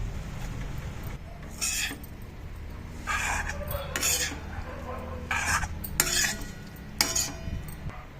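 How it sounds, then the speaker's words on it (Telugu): White rice pre-mixed with salt is tipped into fried masala in a pan, off the heat, and stirred. Bursts of spoon scraping and clinking come in several passes over a low, steady background rumble. "ఇప్పుడు నేను సాల్ట్ కలిపి పెట్టుకున్న వైట్ రైస్ని అందులో వేస్తున్నాను"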